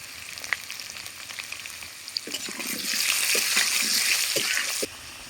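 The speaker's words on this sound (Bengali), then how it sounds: "লাল লাল করে ভাজা হয়ে গেছে" Potatoes with turmeric fry in a pan over a clay stove. A steady sizzle swells louder midway with bubbly crackles and light pan knocks, then drops back abruptly near the end, with no speech.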